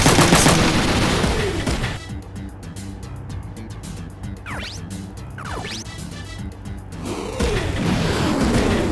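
Rapid gunfire from mechs in a Front Mission 3 battle, a dense rattling burst of machine-gun shots lasting several seconds between louder explosive crashes, with a steady game music and effects bed throughout.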